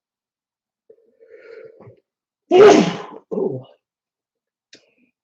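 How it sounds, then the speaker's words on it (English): A single loud, close human sneeze, a sharp burst followed by a shorter second release, after a quiet voiced lead-in and with near silence afterward. "I sneezed so hard I knocked my headphones off."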